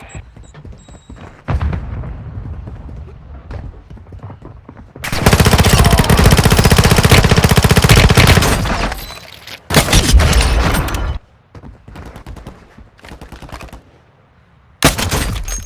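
Bursts of rapid automatic gunfire crackle loudly in Warzone Mobile, with sustained volleys and scattered single shots between quieter pauses, game-like and close.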